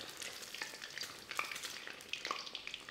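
Eggs deep frying in oil sizzle and crackle steadily with scattered sharp pops, a close, continuous frying sound at low volume with no voices.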